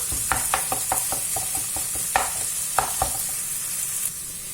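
Meat pieces sizzle in a hot pan as they are pressed and stirred, with a steady frying hiss under repeated scraping and tapping of a utensil against the pan.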